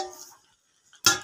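A lid set onto a pot of boiling taro: after a faint stir and a near-silent pause, one sharp metallic clank rings out close by at the very end.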